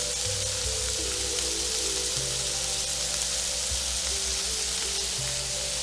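Butter sizzling and frying in a hot pan alongside seared scallops, a steady crackling hiss with faint stirring or basting movement, no talk.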